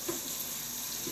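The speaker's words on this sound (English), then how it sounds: "I'm going to run my hot water through there" Hot water runs from a kitchen sink faucet in a steady, even hiss, close and moderately quiet, with no talking over it.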